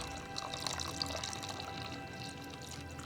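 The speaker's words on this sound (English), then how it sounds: "Then we're going to pour some red wine over it." Red wine poured over mussels in tomato sauce in a pan, a faint, steady liquid pour with light splashing and sizzle lasting a few seconds.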